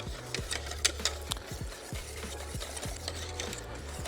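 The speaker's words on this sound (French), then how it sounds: "Donc jusqu'à la première ébullition, on va remuer constamment." A whisk scrapes steadily round a pan of mango-passion mixture thickened with potato starch as it heats toward a boil, giving repeated rhythmic swishing strokes, close and moderately quiet, with no voices.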